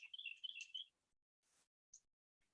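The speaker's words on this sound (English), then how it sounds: "Listen to the birds chirping," Faint, distant bird chirps: a quick twittering burst, then a single short tweet after a soft rustle, in an otherwise quiet outdoor setting.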